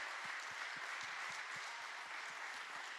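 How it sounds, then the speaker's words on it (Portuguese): A church congregation applauds during a Sunday worship service, a steady wash of clapping with a soft, regular low thumping underneath, moderately distant and without speech. "Pode dar um aplauso ao Senhor"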